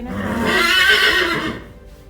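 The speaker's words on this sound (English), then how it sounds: "There is a horse in there." A horse in a stable lets out a single loud, close whinny, rising and wavering before trailing off.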